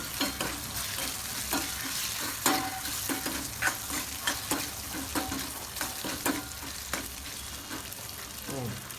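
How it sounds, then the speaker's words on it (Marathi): Potatoes seasoned with turmeric and salt being stirred in a hot frying pan, a steady sizzle broken by repeated scraping clinks of the spoon against the pan in an irregular rhythm, close and fairly loud. "हळद टाकून द्यायची मध्ये थोडी मीठ टाकायचं त्याला चांगलं मिक्स करून घ्यायचं"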